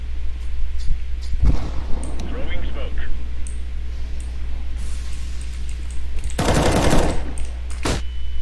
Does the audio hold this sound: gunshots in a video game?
yes